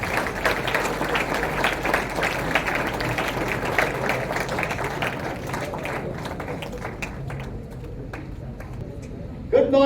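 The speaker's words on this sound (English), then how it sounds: "let us give a resounding round of applause for our chief guest, Colonel Harish Kumar." An audience at a school career education event gives a sustained round of applause for an Indian Army colonel, dense clapping that thins out toward the end, with voices mixed in.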